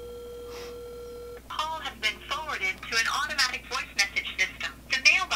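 A telephone line sounds as a call is placed to a Wendy's restaurant: a steady tone with brief beeps comes first, then a voice talks over the line, close and clear.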